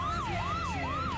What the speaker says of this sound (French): On a ici la sirène.